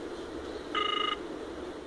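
A smartwatch plays an outgoing call ringing tone, one short electronic ring burst over a quiet background hum.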